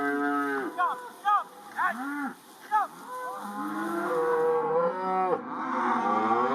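Beef cattle on a farm mooing several times, a series of drawn-out calls overlapping one another at moderate distance, with a steady low background hum.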